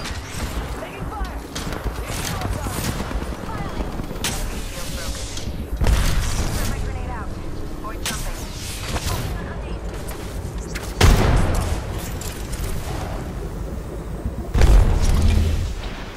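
Apex Legends battle sounds: steady rapid gunfire with a few heavy booms standing out, continuous and fairly loud throughout, with game voice lines mixed in.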